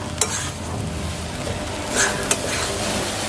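Potato filling for aloo paratha stirred and fried in a pan, with a steady close sizzle, a couple of sharp scrapes and clinks of the spoon against the pan, and no talk.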